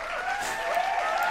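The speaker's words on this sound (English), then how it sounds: "Can I get a round of applause for that play?" A brief, faint applause sound effect plays during a League of Legends stream, a short burst of crowd clapping at low volume.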